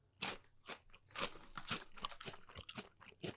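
Carolina Reaper hot chips crunched and chewed close to the mic, a series of crisp, irregular bites and crackling chews at low volume, with no talking.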